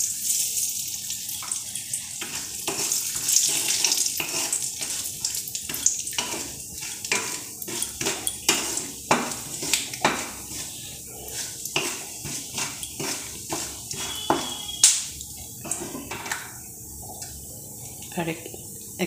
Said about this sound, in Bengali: এবার একটু বাদাম ভেজে নেব।